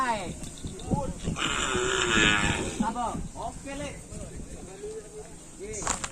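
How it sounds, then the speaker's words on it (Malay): Karapan sapi racing bulls from Madura, a group of three newly arrived animals, moo loudly and repeatedly at close range, with drawn-out calls layered over steady background noise and people talking nearby. "Ini ada 3 ekor ya teman-teman. Untuk sapi baru Nyo Kelepeng Sakti guys."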